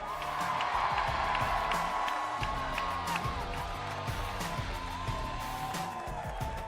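A crowd cheers and whoops at a UFC Noche ceremonial weigh-in, a steady, loud roar of many voices in a large hall that holds from start to finish, with scattered shouts rising above it.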